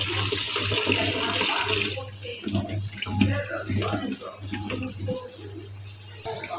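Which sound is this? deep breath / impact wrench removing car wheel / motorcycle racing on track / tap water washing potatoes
tap water washing potatoes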